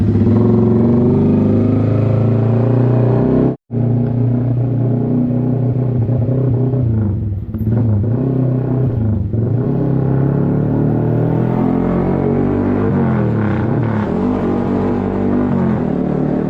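A motorcycle being ridden through town streets in Cotabato, its engine revving and rising and falling continuously near and loud, with one brief cut to silence early on.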